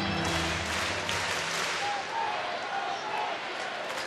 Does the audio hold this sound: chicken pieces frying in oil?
no